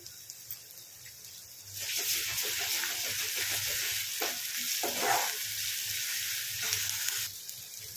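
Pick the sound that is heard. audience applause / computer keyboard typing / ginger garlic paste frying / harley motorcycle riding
ginger garlic paste frying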